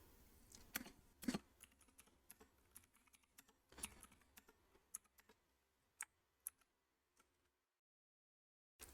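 Someone types a command on a computer keyboard: sparse, uneven key clicks in short bursts, close and quiet, thinning out and stopping near the end.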